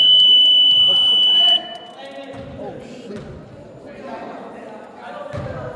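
A loud electronic buzzer at a knock-out league game blares steadily for about a second and a half, then cuts off as several people talk and shout nearby.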